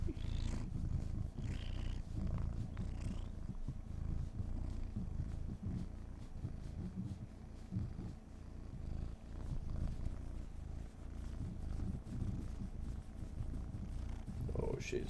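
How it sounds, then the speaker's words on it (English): A happy cat purrs loudly right into a microphone, a steady low rumbling that runs continuously for the whole stretch, close and dominant. "she's purring very loudly into this microphone right now"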